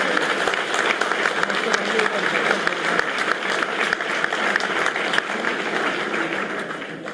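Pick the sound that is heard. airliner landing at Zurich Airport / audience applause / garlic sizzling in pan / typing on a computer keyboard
audience applause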